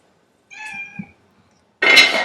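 Hungry cats meow before mealtime: a drawn-out meow, a short sound, then a louder, harsher second meow close by, with no talk.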